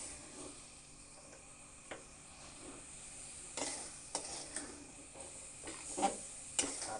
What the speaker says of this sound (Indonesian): Keong ditumis dengan bumbu, diaduk-aduk sampai bumbu itu merata di seluruh keong.